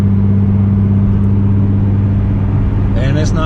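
Steady low exhaust drone from a Genesis car with muffler and resonator deleted, cruising at about 70 mph on the highway, an even, moderate cabin hum with a brief rise in higher noise near the end.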